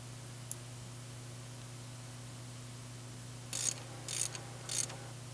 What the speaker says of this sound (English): Pull out the centrifugal dirt separator using the extractor and the extracting bush.